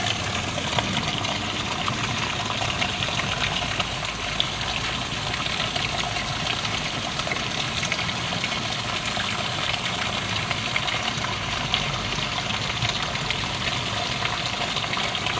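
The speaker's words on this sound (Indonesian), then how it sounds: "Ini mengalirnya pancuran ini langsung ke pesawahan" Water pouring steadily from a bamboo spout at a rustic village bathing spot and running into the rice fields, a constant broadband rushing that stays loud and unchanging throughout, with no voices.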